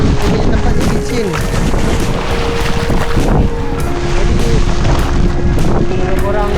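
Strong seaside wind on Mabul Island, Sabah, buffets the microphone in a loud, steady roar, with talking underneath.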